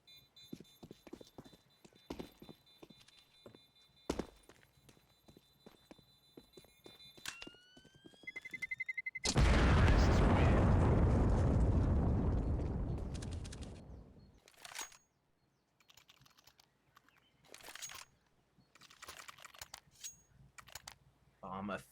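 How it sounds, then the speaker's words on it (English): A bomb detonates in a competitive esports match, a loud roaring blast lasting several seconds amid clicking gameplay sounds and commentator speech before and after. "Bomb officially detonating"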